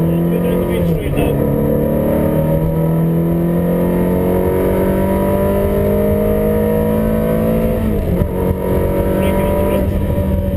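Ferrari on track day at Knockhill circuit, accelerating down the main straight: a loud, steady engine note rising in pitch through the gears, with a brief dip around each shift, heard close from inside the car throughout.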